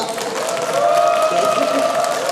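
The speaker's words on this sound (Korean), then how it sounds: "박수 좀 보내주세요" Listeners at a Buddhist dharma talk applaud as a radio host is introduced. The clapping is steady and moderately loud, with faint murmuring and a sustained tonal hum beneath.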